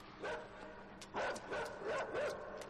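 A dog in the dark side-scrolling game INSIDE barks several times in an urgent chase, the yelps coming close together over a faint mechanical background.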